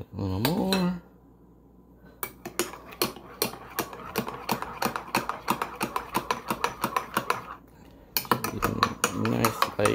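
A spoon stirs whipped egg-yolk cream into Vietnamese egg coffee (cà phê trứng), tapping the cup in a quick, steady run of bright clinks. A voice speaks briefly just before and again after the stirring.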